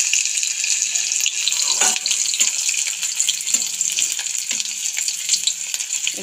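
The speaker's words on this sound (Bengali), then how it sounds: "এখন ওই তেলের মধ্যে দিয়ে দিচ্ছি রসুন কুচি" Chopped garlic and ginger sizzle steadily in hot oil in a home kitchen pan, a close, continuous frying hiss with occasional brief stirring clatters and no talking.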